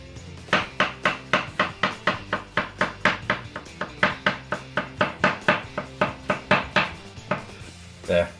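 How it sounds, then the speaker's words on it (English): A handmade knife chops onions and courgettes on a board, giving about two dozen crisp, evenly paced knocks in a quick steady rhythm, close and clear, with no voices. "Cuts onions, courgettes."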